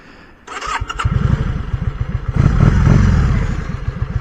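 A motorcycle engine on a road trip along Scotland's NC500 route fires up after a brief pause, settling into a loud, close, steady chugging beat that swells midway as it is revved, with no voices.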